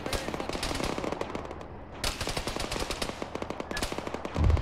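Anti-aircraft fire in the Arma military game, sustained rapid bursts of heavy automatic gunfire rattling loudly and close, with a brief lull midway before the firing resumes, plus a low thump near the end.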